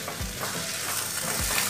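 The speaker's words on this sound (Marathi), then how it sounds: "आता याच्यात अर्धा लिंबाचा रस टाकलेला आपण छान हलवून घेऊया" Sweet corn fajita mixture with lemon juice is stirred in a pan, two distinct scraping strokes sounding over a steady close sizzle that fills the brief moment, with no talking.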